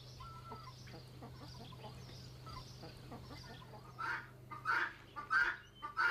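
Farmyard hens and poultry cluck in a barnyard, a low murmur of scattered calls at first, then a run of louder, sharper clucks near the end over a faint steady hum.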